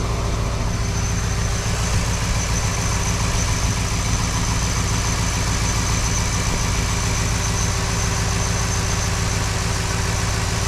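A Ford F350 Super Duty 6.2 engine idles steadily up close, a loud continuous low rumble with an even, unbroken drone and no talking.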